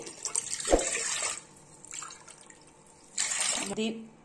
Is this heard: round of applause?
no